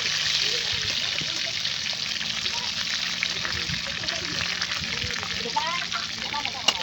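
Roopchand fish fries in a shallow layer of hot oil, a continuous close hiss and crackle with small pops running the whole time.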